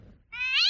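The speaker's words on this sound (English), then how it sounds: "Oh my God, this cat is adorable." A pet cat gives a single short, rising meow, clear and fairly close against a quiet room.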